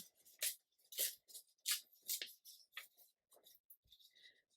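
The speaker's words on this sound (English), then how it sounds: "No, I'm going to have to tear down here." A vintage book page is torn by hand for junk journal collage in a series of short, close, crisp ripping bursts with brief pauses between pulls.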